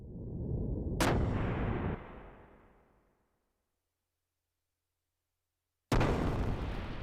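Two heavy cannon blasts fired from a ship in the video game Xenogears, the first booming out and rumbling away into silence over a couple of seconds, the second striking sharply near the end.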